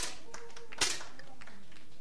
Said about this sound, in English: you give her a big applause for that